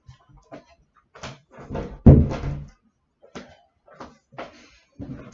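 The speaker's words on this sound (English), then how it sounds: "Let me just close that door because it keeps on playing." A door pushed shut indoors gives one solid thunk near the middle, surrounded by scattered soft knocks and handling noises in an otherwise quiet room.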